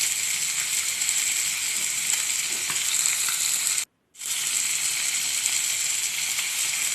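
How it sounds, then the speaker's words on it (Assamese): Fish pieces lightly frying in a pan for a pea, tomato and fish curry give a steady, close sizzling hiss that cuts out briefly midway and then resumes. "বেছি ফ্ৰাই কৰিলে চব্জিৰ টেষ্টে নোহোৱা হৈ যায়, সেইকাৰণে আধা ফ্ৰাই কৰি ল'ম।"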